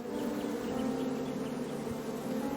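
A beehive in King's Quest (2015) gives off a continuous, droning buzz of many bees, steady and fairly close throughout.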